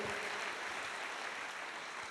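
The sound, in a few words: church congregation applause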